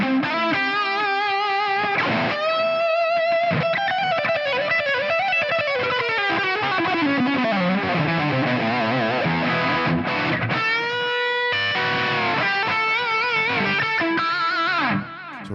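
High-gain electric guitar amp tone captured with a Quad Cortex, a distorted guitar phrase of sustained notes and bends with sliding pitch, played alone and loud throughout.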